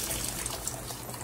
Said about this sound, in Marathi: त्याच्यानंतर गरम पाणी त्यात घालायचं